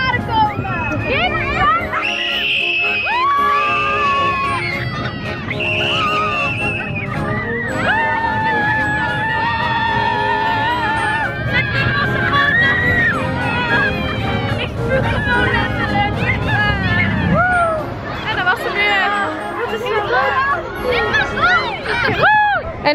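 Continuous shrill screaming and shrieking from many riders on an amusement park ride at Slagharen, loud and close, with overlapping high-pitched voices and rumbling motion underneath for the whole stretch.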